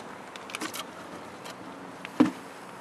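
Bees buzzing around a weak beehive with only a small cluster during a spring check, faint close buzzes and brief fly-by whines coming and going over a quiet outdoor background, one louder pass near the end.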